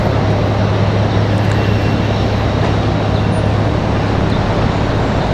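An Embraer E190 airliner arriving from New Orleans at Raleigh-Durham International Airport, a loud, steady, broadband jet roar with a constant low rumble and no voices.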